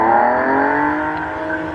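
A TVR T350C sports car engine revs and accelerates nearby at a hill climb, a loud rising roar that holds steady, with no talking.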